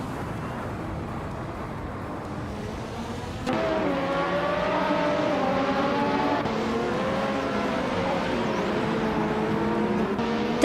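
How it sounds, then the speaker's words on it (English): Minardi M188 Formula One race car driving in a sim race, its engine droning steadily with shifting pitch that rises in volume partway through, heard alone without talk. "Double is driving a Minardi M188, a car known for its lightweight design"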